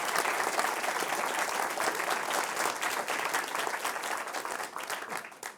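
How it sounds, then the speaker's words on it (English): Film festival crowd applauding in a theater before a premiere, a thick, loud roar of many hands clapping at once, sustained evenly and easing off slightly at the end. "that deserves a tremendous round of applause"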